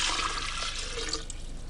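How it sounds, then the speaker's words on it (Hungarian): Water is poured into a glass vessel, a bright, close splashing stream that is loudest at first and then eases into softer trickles and drips, with no speech. "Musschenbroek fogott egy üvegedényt, és némi vizet öntött bele"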